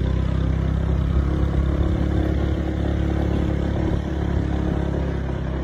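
A rented motorcycle rides along the roads of Koh Samet island in Thailand, its engine droning steadily and loudly throughout with rattling and wind rumble, without talk.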